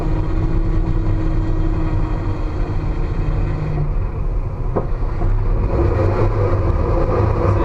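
A car engine drones steadily and loudly through a drift on a track, with heavy low rumble and wind buffeting on the microphone. A single sharp knock sounds partway through, then the pitch shifts slightly.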